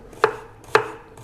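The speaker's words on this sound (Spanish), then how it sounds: "terminamos con nuestra picadera de cebolla" Onion being chopped on a board while making Peruvian lomo saltado: three sharp, close knife strikes evenly spaced about half a second apart, each a crisp thud with a short rattle.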